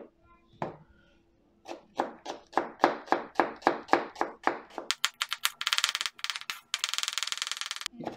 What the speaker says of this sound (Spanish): Ahora en la misma lugar tengo una cebolla, la misma vamos a picar finito.